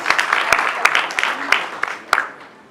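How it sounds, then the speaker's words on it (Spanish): Applause rises from the audience at a lecture, with a few sharp, close hand claps standing out over a softer spread of clapping that thins out and fades by the end. "se merecen un aplauso"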